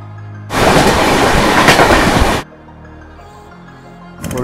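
An UDAY Express train on the Salem to KR Puram route rushes loudly along the tracks for about two seconds, then the roar drops to a quieter rumble before rising again at the end.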